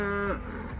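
A cow mooing in the video game Farming Simulator 22, one short, loud, close low moo that slides down in pitch.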